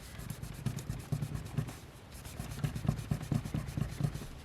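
Paper being rubbed with an alcohol-soaked rag in junk-journal crafting, a close, soft, rhythmic scrubbing in quick repeated strokes with a brief pause midway, no talking.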